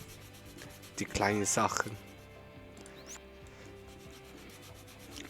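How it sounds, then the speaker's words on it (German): A sanding block being sanded in the video game Toy Tinker Simulator, a soft, steady rubbing scrape over a low hum, with someone briefly speaking early on. "es sollte noch hier unser Schleifblock schön geschliffen werden"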